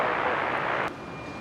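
An Airbus A321neo from Jetstar touches down on runway 19 left at Brisbane, a steady loud broadband roar that drops off abruptly partway through.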